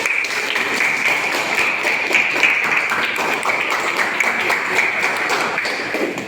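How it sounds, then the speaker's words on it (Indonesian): Classroom applause from students during a lesson, dense and loud clapping sustained throughout with a faint ringing tone running beneath it, no clear talk. "Kasih tepuk tangan."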